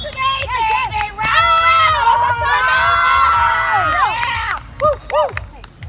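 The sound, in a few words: college water polo crowd cheering during timeout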